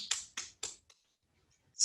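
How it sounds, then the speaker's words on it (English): Hand clapping against the sole of a bare foot with one shin crossed over the other, three quick, sharp slaps in a row, then a pause and a fourth hit, close and crisp with no voices. "clap the sole of your foot, crossing one shin over the other"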